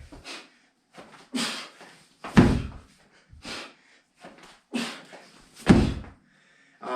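Repeated heavy thuds from fall-back slams during a home dryland strength circuit, several impacts spaced a second or two apart with breathy exertion between them, close and loud.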